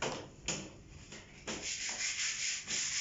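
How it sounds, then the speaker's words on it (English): A sanding block rasps back and forth over a filled wall, close and loud, in several firm strokes with short pauses between them and no talking. "So you want to sort of level against the wall when you're sanding."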